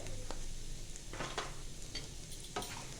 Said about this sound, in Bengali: জিরেটা একটু ভেজে নেব।